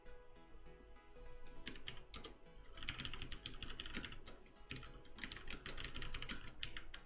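Quick typing of code on a computer keyboard during a live programming stream, close and fairly quiet, with dense bursts of key clicks broken by short pauses and no talk.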